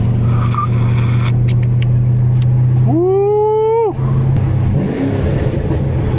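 A cammed fifth-generation Camaro Z28 race car engine over-revs hard and high for about a second, pitch climbing then holding, over steady engine drone, with a brief shout nearby.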